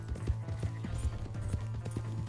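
Horse hooves clip-clop at a steady trotting rhythm in Red Dead Redemption 2, soft repeated thuds over a low ambient hum, no talking.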